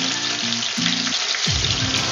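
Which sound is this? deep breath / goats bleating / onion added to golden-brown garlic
onion added to golden-brown garlic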